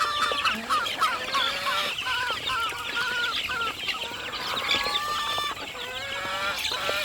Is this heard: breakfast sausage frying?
no